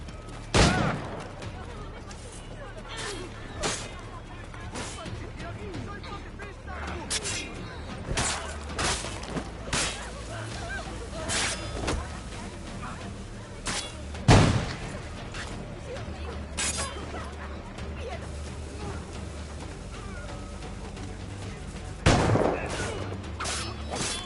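Pistol gunfire in Assassin's Creed IV: Black Flag, several sharp shots scattered irregularly over busy game music and ambience, with voices talking in between.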